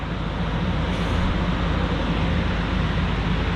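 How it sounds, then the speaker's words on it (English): Cooling fans of a GPU cryptocurrency mining rig, all running at once after a restart, make a steady, loud, broadband whooshing hum with a low drone, unchanging throughout. "Sorry for the noise. I know all the fans are back on"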